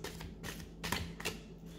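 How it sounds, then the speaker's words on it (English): A deck of large oracle cards is shuffled by hand in a quiet room. Several short, soft riffling bursts come in a loose rhythm, faint and close. "start by shuffling the deck"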